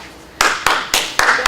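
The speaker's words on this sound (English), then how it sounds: "Give a round of applause." A small group in a first-aid class gives a brief round of applause: about five sharp, close claps in a loose, uneven rhythm, fairly loud and without talk.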